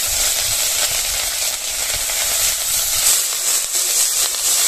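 Onion paste with nigella seeds and chopped ginger sizzles in hot oil, a continuous bright hiss of frying heard close up with no talking.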